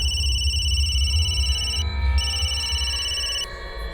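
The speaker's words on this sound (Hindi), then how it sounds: "तो उसके भाई गौतम को फोन किया मैंने।" A telephone rings during a phone call with a repeating electronic trill in two bursts separated by brief gaps, clear and fairly loud over a low background hum.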